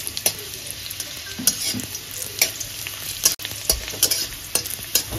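Garlic frying in a little refined oil, a steady close sizzle punctuated by regular scraping stirs of a spatula against the pan, fairly loud and without talk.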